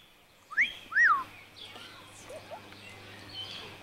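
Pet bird chirping at home: a couple of clear, fairly close rising-falling chirps early on, followed by fainter, scattered calls over a low steady hum.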